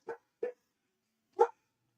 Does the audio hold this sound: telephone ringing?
no